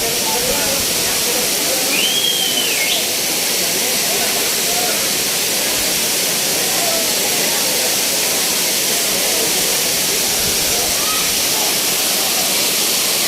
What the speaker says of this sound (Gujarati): સામે વિશાળ ધોધ પડી રહ્યો છે